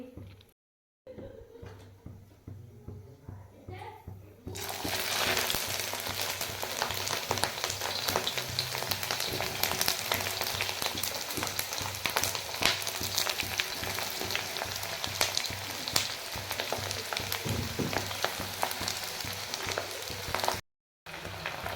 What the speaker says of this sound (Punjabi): ਤੇਲ ਹੋ ਗਿਆ ਐਨ ਗਰਮ ਦੇਖੋ ਭਾਫਾਂ ਉੱਠ ਰਹੀਆਂ ਗਰਮ ਹੋ ਗਿਆ ਤੇਲ ਹੁਣ ਆਪਾਂ ਵਿੱਚ ਅਚਾਰ ਪਾਵਾਂਗੇ